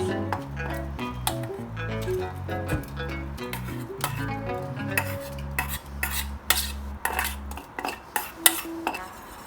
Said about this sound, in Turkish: Ve hafiften kıvam alıncaya kadar karıştırmaya devam ediyoruz.